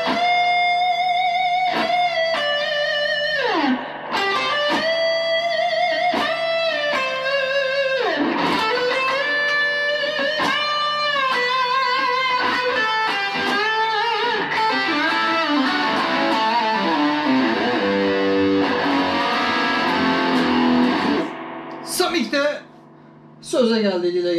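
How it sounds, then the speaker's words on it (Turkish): An electric guitar through a Samick LA10R practice amp with the reverb turned all the way up plays a long run of sustained, bending single notes and chords, loud and washed in ringing tails, with a couple of brief gaps near the end. "Bakın şurada bir reverb var, şunu açalım, reverb'i kökleyelim"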